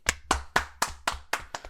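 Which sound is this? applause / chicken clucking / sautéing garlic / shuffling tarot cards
applause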